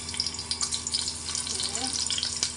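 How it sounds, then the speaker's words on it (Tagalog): Ginger hits hot cooking oil in a pan, giving a steady bright sizzle and crackle throughout, with faint stirring noises underneath. "Unahin kong ilagay yung ating luya."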